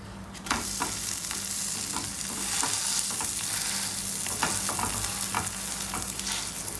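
Paneer paratha sizzles steadily in a hot pan after being flipped, a close continuous crackle and hiss with small pops and occasional scraping stirs, no voices.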